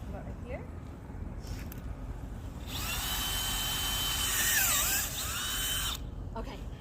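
A power drill bores holes in the ground for planting spring flower bulbs, its high whine rising for a few seconds and then stopping, over steady outdoor background noise, close by.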